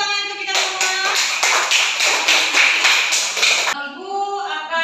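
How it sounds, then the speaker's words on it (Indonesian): A class of schoolchildren claps hands together in a classroom, with rhythmic, evenly spaced claps for about three seconds. Close and fairly loud, with a teacher's voice before and after. "beri tepuk tangan untuk kita semua"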